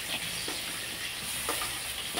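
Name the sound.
stirring boiled potatoes in hot oil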